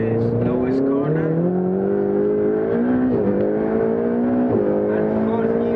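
Ferrari 488 GTB engine accelerating hard through the gears on the Fiorano circuit, a loud, steady rising drone with pitch sweeps at each shift, heard close from inside the car with no talk over it.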